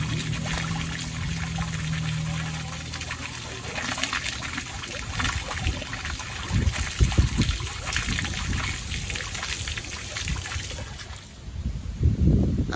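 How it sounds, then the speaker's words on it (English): Water flushes through an RV freshwater tank, gushing and trickling in a continuous wash that surges and splashes in bursts, close by and moderately loud, with no talking. "So I just rinsed out my freshwater tank."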